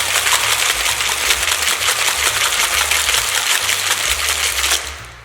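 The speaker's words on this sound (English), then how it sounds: "We're then going to add ice. Give this another little shake for about 15 seconds." Ice rattles hard inside a cocktail shaker mixing a Clover Club, with rapid, rhythmic clattering shakes sustained loud and close for about five seconds before tapering off at the end.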